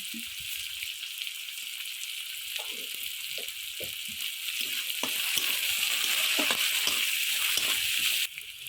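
Onions fry in a pan with a strong continuous sizzle. A utensil stirs them with repeated scraping taps, and the frying swells louder toward the end.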